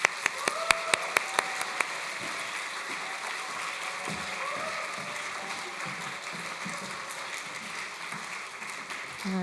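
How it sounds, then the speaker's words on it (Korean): Church congregation at a Sunday service welcomes a guest speaker with a few sharp opening claps, then sustained applause and cheering that fills the room steadily to the end. "환호성과 박수로 맞이하도록 하겠습니다"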